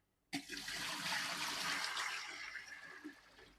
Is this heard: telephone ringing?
no